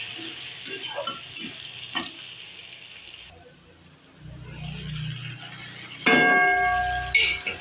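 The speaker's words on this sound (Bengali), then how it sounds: "আলুটা এখন ভাজবো একটুখানি হলুদ দিয়ে দেবো আর অল্প নুন" Potatoes frying in a pan with turmeric and salt, a sizzle with stirring scrapes and a few clinks, rising and falling in loudness, close with no talking.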